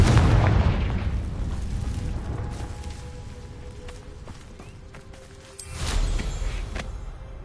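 A Confringo spell blast in a Harry Potter video game sets off a loud booming explosion that rumbles and decays over several seconds, with a second heavy burst near the end.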